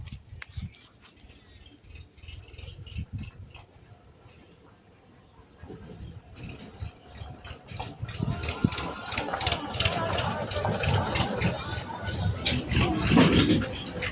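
A rattling tractor engine with clanking mechanical noise grows louder as it approaches, and voices talk over it.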